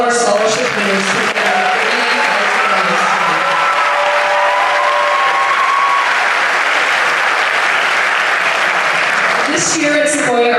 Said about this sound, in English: Let's give one more big round of applause and congratulations to all of our scholarship winners.